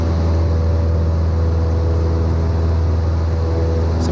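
A light aircraft engine holds full power at 2,500 RPM during the climb after takeoff from Duxford, a steady, loud, unbroken drone heard from the cockpit.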